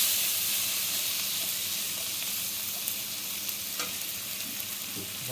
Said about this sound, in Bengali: এই যে মশলা দিয়ে কষানো হয়ে যাক